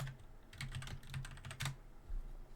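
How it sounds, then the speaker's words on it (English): Typing on a computer keyboard, quiet and fairly close, with bursts of key clicks in irregular runs and short pauses between them, and no voices. "Let me type this here."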